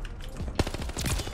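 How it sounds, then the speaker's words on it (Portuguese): M19 submachine gun fired in Call of Duty: Vanguard, a rapid burst of closely spaced shots with a sharp onset, loud and up close in the game mix. "Vamos jogar com a subzinha aqui, a M19, 50 de balas no pente. Muita cadência de tiro."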